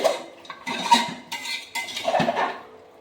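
Beef curry masala being stirred in a pan, with a spoon scraping and clinking against the metal in irregular bursts, close and fairly loud, no talking.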